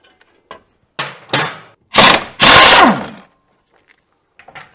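Impact wrench loosening the upper suspension arm bolts on a Mitsubishi Eclipse GSX rear suspension, a few short close rattling bursts building to one longer loud burst, with small tool clinks before and after.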